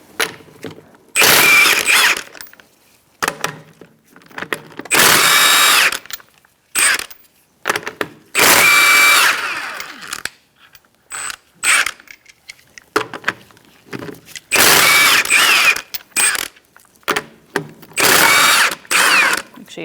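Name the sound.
power tool removing Mazda 3 wheel lug nuts with 21mm socket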